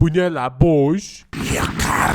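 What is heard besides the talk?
None of the usual background noises is heard.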